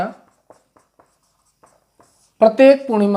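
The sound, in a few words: writing on a board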